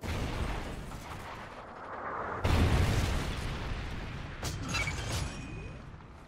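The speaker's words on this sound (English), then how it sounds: "Trinity rocket inbound" A Trinity rocket strike in Call of Duty: Ghosts lands with a sudden heavy boom, followed by rumbling blasts and scattered pops trailing off over several seconds.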